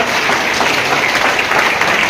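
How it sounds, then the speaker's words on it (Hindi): Loud, dense audience applause fills the hall to welcome guests at a ceremony honouring senior citizens, a steady close wash of clapping throughout. "जोरदार तालियों से स्वागत कीजिए अतिथियों का अपने"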